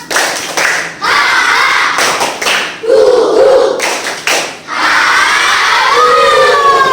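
Group doing a tepuk semangat chant claps loudly in rhythmic bursts with brief pauses between, while voices shout and chant along in call-and-response fashion.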